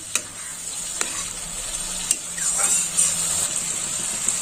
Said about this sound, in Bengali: এই গোলা মশলাটাও একটু কষা হবে।